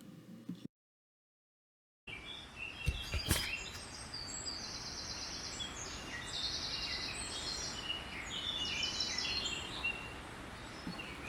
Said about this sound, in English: Lots of birdsong in the early morning.